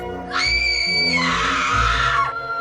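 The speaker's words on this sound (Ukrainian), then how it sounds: "Я почув крик з кімнати доньки та кинувся до неї." A child's shrill scream from a bedroom at night, one sustained piercing cry lasting a couple of seconds, loud and close over a low rumbling backdrop, with no talking.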